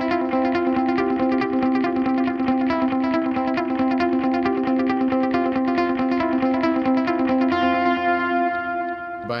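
An electric guitar through a Line 6 POD HD500X reverb setting plays a steady strummed and picked pattern washed in reverb and light distortion, the notes ringing and blending together.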